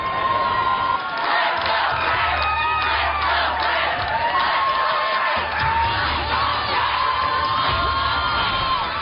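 An excited crowd at a live magic stunt performance cheers and shouts, a loud, dense wall of voices with whoops that carries on steadily for the whole stretch.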